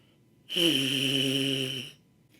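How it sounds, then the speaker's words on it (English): A single trombone mouthpiece buzz with puffed cheeks, held for about a second and a half, wavering and slightly unsteady in pitch, fairly soft. "If you don't keep your cheeks glued against your teeth, they're going to puff out and your buzz"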